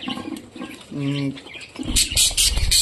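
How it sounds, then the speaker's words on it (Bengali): Spangle rainbow and black budgerigars chirp and chatter in quick, bright bursts, growing busier toward the end, with a voice briefly heard among them. "স্প্যাঙ্গেল রেনবো বাজিগার পাখি"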